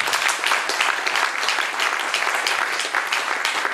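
An audience at an anniversary ceremony bursts into sustained, dense applause, many hands clapping together loudly and evenly throughout with no talk over it.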